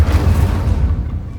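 A fire spell, Incendio, cast in Hogwarts Legacy: a deep, rumbling whoosh of flames bursting out loud and near, then fading over about a second.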